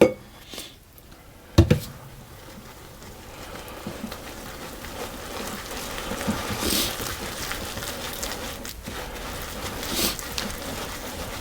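Milk is stirred into dry ingredients for banana oat drop scones. Two sharp clinks of a utensil against a bowl come first, followed by a continuous wet, sloshing whisking sound at close range.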